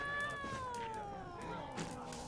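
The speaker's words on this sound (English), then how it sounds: "A cat!" A cat in the video game Witcher 3 lets out a drawn-out, falling meow, close and fairly quiet over soft ambient background, with no talking.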